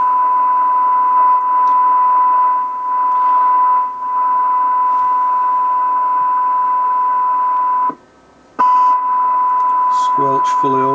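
A Cobra 21 LTD CB radio on channel 19, squelch open, plays a steady received test tone from a signal generator. The tone is loud and continuous, drops out briefly near the end, then returns with a few short warbling bursts.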